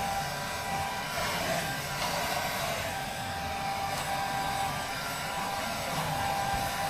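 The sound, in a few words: hair dryer blowing on damp clothes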